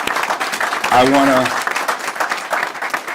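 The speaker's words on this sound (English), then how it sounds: "we can clap for that." A crowd at an outdoor civic event for the opening of a second chance center applauds in a steady, close clatter, while a voice briefly calls out over the clapping partway through.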